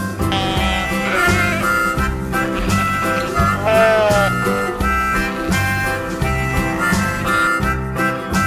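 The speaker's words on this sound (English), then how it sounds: "Sheep." Sheep bleat repeatedly over a busy, rhythmic musical backing, with several wavering calls rising above the steady beat.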